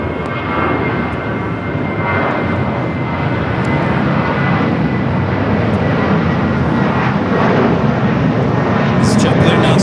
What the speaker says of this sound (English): This flight taking off to Phoenix.